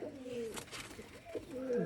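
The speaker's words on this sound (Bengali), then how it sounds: "আমি এখন একটা কামাগার কবুতর দেখাবো।" Close, soft cooing from a Kasuri Kamagar pigeon: several low, rolling coos in short phrases.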